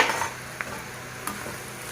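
Semolina (rava) roasting in a pan while being stirred, a close, steady dry hiss with a couple of sharp clicks of the spoon against the metal.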